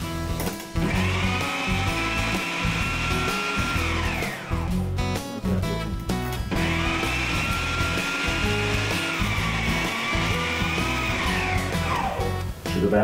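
A blender whirs through oyster juice and a splash of milk in two long bursts of about four seconds each. The motor pitch sags and recovers under load, and there are brief clatters and pauses between the runs.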